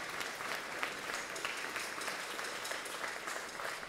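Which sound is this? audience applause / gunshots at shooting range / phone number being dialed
audience applause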